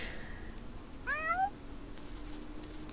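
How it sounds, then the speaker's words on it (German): A cat in The Sims 4 gives a single short, clear meow with a rising then falling pitch over a soft, steady background. "Ich kümmere mich jetzt um die Katze."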